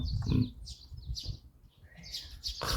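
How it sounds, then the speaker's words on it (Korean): Birds singing outdoors, with bright chirps and short whistled calls coming in scattered bursts over a quiet background of low rumble, moderately close and with no talking. "새소리 좋다."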